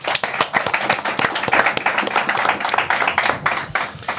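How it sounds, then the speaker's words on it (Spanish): Lively applause from a live comedy show audience greeting a guest onstage, loud, close clapping with distinct sharp hand strikes in a fast, continuous rhythm. "un fuerte aplauso"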